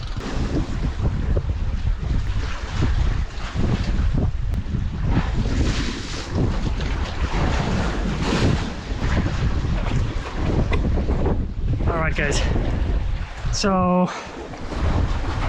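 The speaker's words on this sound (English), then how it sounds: "it's getting pretty windy here on this side" Strong wind at sea buffets the microphone beside a fishing boat off Indonesia, a steady loud roar with gusts; someone speaks briefly near the end.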